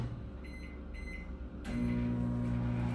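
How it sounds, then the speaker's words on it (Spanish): A microwave oven heats gelatin to melt it. A few faint electronic beeps come first, then the oven starts up into a low, steady hum that continues to the end. "agarrar la grenetina y meterla al micro"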